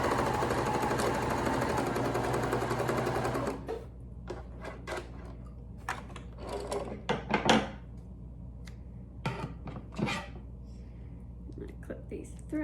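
A sewing machine stitches a neck gaiter mask in a steady fast run that stops after a few seconds, followed by soft clicks, ticks and handling sounds as the fabric is adjusted.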